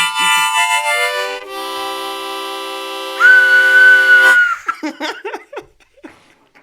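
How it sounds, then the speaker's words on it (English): A long, steady tone holds for a few seconds before a shrill, higher whistle blast, followed by a burst of giggling laughter. "you blow a whistle"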